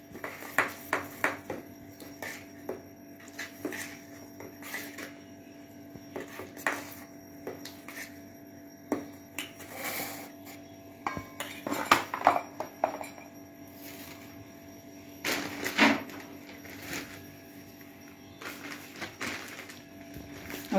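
Cardamom powder and dry fruits being mixed into a dish in a home kitchen, heard as a scattered run of light clinks and scrapes of utensil against dish, quiet and close, with no voices.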